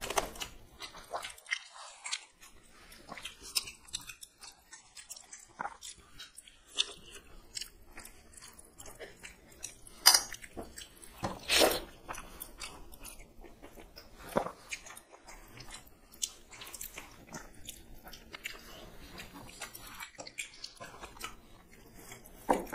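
Someone eating fish curry with rice and cauliflower and potato gravy, close, wet chewing and occasional crunchy bites in irregular bursts with quiet pauses, no talking.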